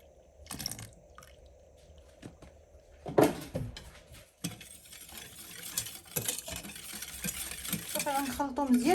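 A spoon stirs half a litre of milk into sugar-free chocolate flan mix for a cake, with soft scraping and clinking against the bowl, intermittent knocks and louder sloshing strokes toward the end.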